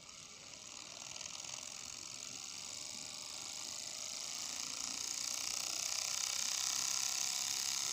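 A homemade paper electric motor rotor spins up, making a fine rapid ticking and whirring that grows steadily louder and higher over several seconds, faint and close, with no talk.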